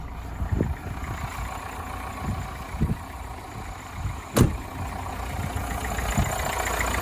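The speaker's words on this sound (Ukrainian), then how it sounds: "Зараз покажу, як двигун працює" A Subaru/Opel 1.7 diesel car engine idles at a low, fairly quiet, steady level, with a few soft knocks and one sharp click breaking the rumble and no one talking.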